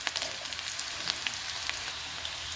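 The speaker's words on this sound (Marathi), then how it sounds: "मिरची अशी छान आपल्याला भाजून घ्यायची आहे, तर याचा पूर्ण कच्चापणा गेला पाहिजे।" Coarsely chopped green chillies roast in a hot pan with a steady, fine crackling sizzle and scattered sharper pops, close and even throughout with no talking.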